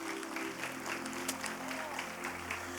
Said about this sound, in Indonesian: kita kasih tepuk tangan buat beliau.